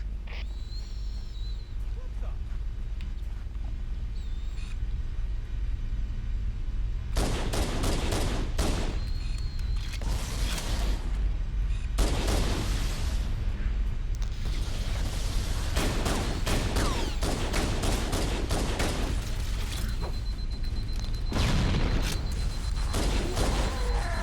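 Gunfire in the video game Halo, pistol shots among bursts of rapid shooting and booms over a constant loud game soundscape, firing in clustered volleys.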